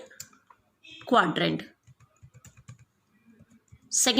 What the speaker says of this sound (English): so here I am typing